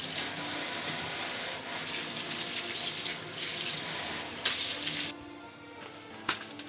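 Sweet potatoes being washed under a running kitchen tap, a steady loud rush of water with scrubbing splashes that stops near the end, leaving a few faint clunks.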